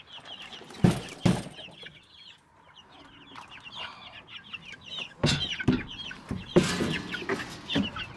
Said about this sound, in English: they are all in there, and that's our new chickens. Easter egg bannies.